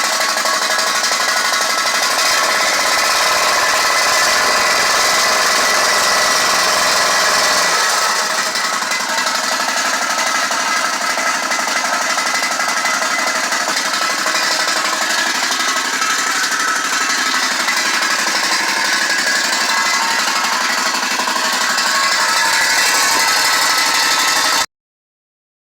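A Gravely ZT 54XL zero-turn mower engine runs steadily and loudly, a continuous buzzing drone that shifts slightly in tone partway through, then cuts off abruptly near the end.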